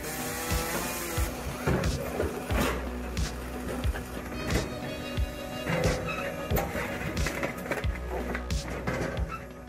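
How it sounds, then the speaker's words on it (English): An automatic firewood processing machine cuts and splits logs with a busy run of wooden knocks, thuds and clattering pieces over a continuous mechanical drone, repeating irregularly throughout. "This is a non-stop wood splitting system with outstanding capacity."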